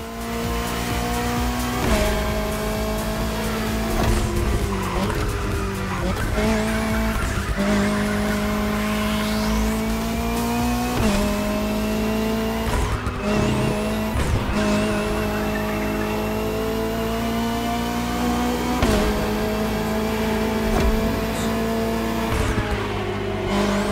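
Race cars on a final lap in the racing game The Crew Motorfest, engines roaring loudly with rising and falling revs, repeated gear shifts and tire squeals, a continuous close engine drone with no talk.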